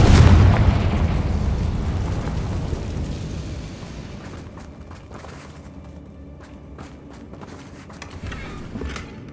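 The Confringo blasting spell in Hogwarts Legacy detonates in one loud, deep explosion at the start, its rumbling roar slowly decaying over several seconds into quieter crackles and small pops.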